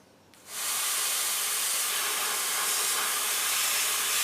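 An airbrush spraying paint onto fishing bait starts abruptly after a brief quiet moment, then holds a steady, close, bright hiss of air without pause.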